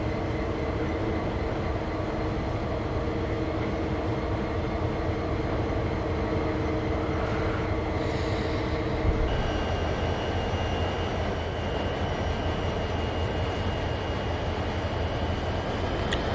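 In Train Sim World 2, a 1970s Clinchfield railroad train switches cars: a steady, dense mechanical rumble of rolling rail cars and engine drone continues throughout, with a faint high whine shifting partway through.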